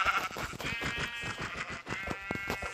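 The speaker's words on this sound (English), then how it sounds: "kill sheep to get wool for beds" Sheep in the Minecraft video game bleat close up and clearly in a series of quick, wavering calls that follow one after another with no talking.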